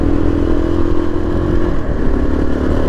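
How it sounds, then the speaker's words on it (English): A 2024 Yezdi Adventure motorcycle engine runs at low speed in gear, a loud, close, steady thrumming with a slight rough pulse, and no one speaking. "Let me downshift and tell you whether it's smooth or not."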